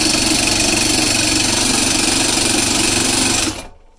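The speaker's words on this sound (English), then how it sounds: "I'll just put it on full speed for a second so you can see how ridiculous this drill is." A drill-driven coil winder for 12-volt wind turbine coils runs at full speed with a loud, even mechanical whine and rattle close to the microphone, then cuts off abruptly near the end and spins down.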